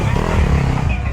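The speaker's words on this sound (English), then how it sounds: "All right, that's another bike." A mini dirt bike roars past close by on a dusty track, its loud engine buzz filling the whole brief moment.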